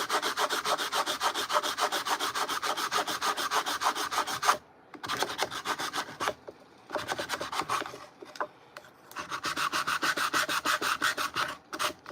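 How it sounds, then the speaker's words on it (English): Hand sanding a handmade wooden frame for sea shell coastal decor: steady, rhythmic scratchy rubbing strokes, close and continuous, broken by two short pauses before the back-and-forth resumes. "I'm gonna make sure that I sand that away"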